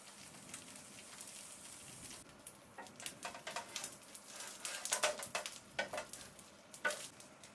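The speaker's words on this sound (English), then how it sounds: "We are going to lightly fry the banana leaf packet on both sides on medium flame." A hilsa fish wrapped in banana leaf lightly frying in a tray over a medium gas flame. A soft, steady sizzle with scattered louder crackles and pops, close and alone.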